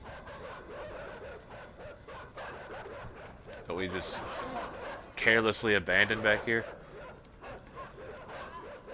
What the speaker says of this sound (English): Puppies, you're very annoying. Stop barking.